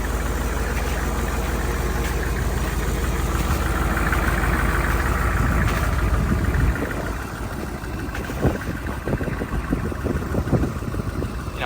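A truck engine working under load with its wheels turning, converted from four-wheel drive to two-wheel drive, heard as a loud, continuous rumbling drone that roughens and turns more uneven toward the end.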